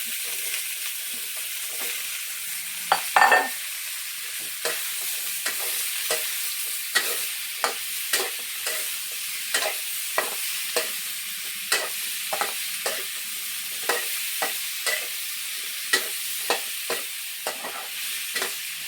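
Pumpkin sautéing in a pan, a steady sizzle broken by regular scraping strokes of a spatula stirring it, close and alone.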